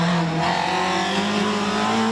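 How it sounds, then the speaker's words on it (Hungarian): Rally car at the Ózd-Salgó Rallye 2018 braking hard into a hairpin, its engine note dropping with steady loud drone and tire noise throughout, close and continuous with no talk. "nagy fék a visszafordító előtt"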